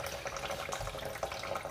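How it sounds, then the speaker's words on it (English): A water tap runs at a very gentle trickle into a sink, a soft, steady stream of running water heard close by and alone. "I'm going to turn the tap on to a very gentle trickle"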